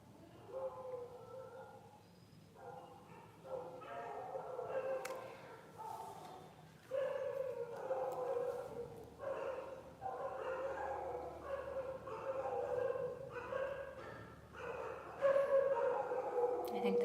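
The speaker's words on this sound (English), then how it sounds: "I think there's a nice dog fight going on outside." Several dogs outside fighting, with repeated barks, yips, whimpers and drawn-out howls in uneven bursts, faint and somewhat distant throughout.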